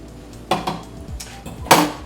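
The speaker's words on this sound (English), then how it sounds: "let's get that a little bit mixed up there. All right, that's nicely blended." A fork scraping and clinking against a bowl while tuna noodle casserole ingredients, including condensed soup, are stirred together; a few close, sharp metallic taps and scrapes come in short bursts.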